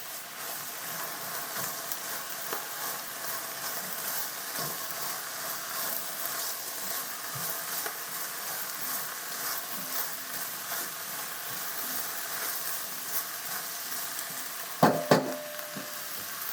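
Squash being stirred as it fries in a pan, a steady soft sizzle and scrape running throughout, with a brief louder clatter of the utensil near the end.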